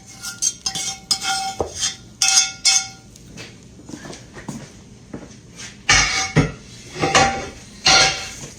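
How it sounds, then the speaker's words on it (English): Utensil stirring onion pie egg mixture in a heavy skillet, giving repeated clinks and metallic scrapes in irregular bursts, fairly close and loud, with no voices. "And stir that around."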